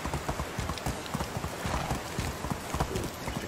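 Horse hooves clip-clopping at a steady riding pace in the medieval village simulation game Medieval Dynasty, a quick rhythmic series of close, distinct hoof strikes continuing throughout.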